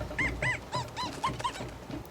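A dog in the film George of the Jungle gives a quick series of about eight high, whining yelps and whimpers in an uneven rhythm, close and moderately loud.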